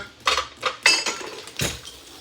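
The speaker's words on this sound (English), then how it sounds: "I'm going to give it a good stir" A spatula stirs thick sourdough banana bread batter in a bowl, giving a series of close, clanking scrapes and knocks against the bowl, about six distinct strokes in quick irregular rhythm, no voices.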